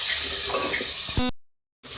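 Water poured into a cooking pan of spiced potatoes, a brief close splashing rush that cuts off abruptly before a short silence.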